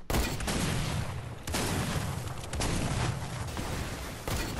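A grenade launcher fires repeatedly in Fortnite gameplay, producing loud, dense bursts of blasts and explosions in quick succession with short pauses between volleys.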